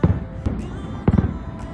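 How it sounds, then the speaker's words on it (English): Distant fireworks from Disneyland pop and thud faintly outside a hotel, a few scattered muffled bursts spread over low rumbling background noise. "we could see fireworks from Disneyland at the front of our hotel."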